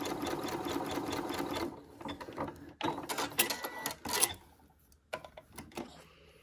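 A sewing machine runs a wider-spaced zigzag stitch in a steady mechanical whir for under two seconds, then stops, followed by light clicks and fabric handling close by.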